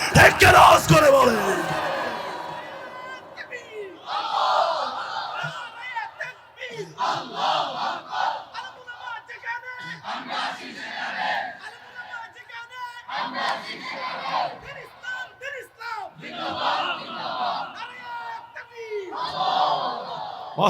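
A large crowd at a religious gathering (mahfil) in Cox's Bazar roars back a response in unison, loud repeated chanted shouts rising and falling in waves, with a speaker's voice echoing at the start.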